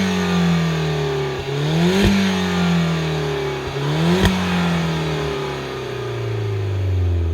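A DS Automobile DS3 THP 200, a small turbocharged hatchback, revs loudly up close: two sharp throttle blips climb and fall back, followed by a longer rev that slowly drops toward idle.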